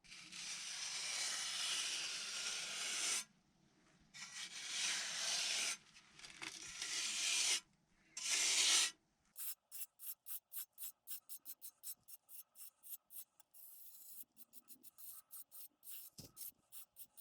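Steel trowel rasping and smoothing sandy render across a DIY pool floor, long continuous scraping passes broken by short pauses, then a quick run of rapid short strokes, close and alone without talk.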